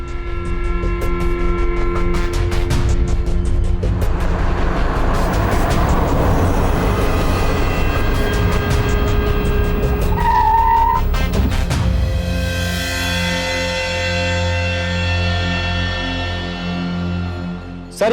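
A police car in a crime drama pulls away fast, engine roaring loudly and tires skidding midway, then the car recedes into a long fading drive-off with no voices over it.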